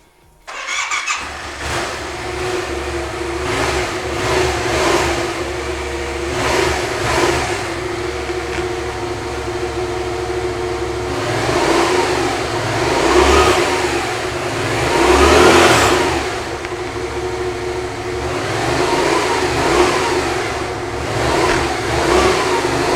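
A Yamaha MT-07 motorcycle engine starts up after a moment of quiet, then runs loud and close with several rising revs and throttle blips over a steady idle, with no talking.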